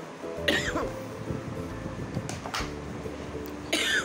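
Two or three short coughs break through a steady fan-like hum, spaced a few seconds apart, close and fairly sharp.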